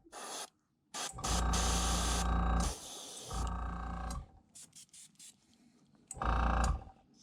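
An airbrush sprays paint onto a Strike King KVD crankbait in several hissing bursts of a second or two each, close and loud, separated by brief pauses and faint mechanical clicks.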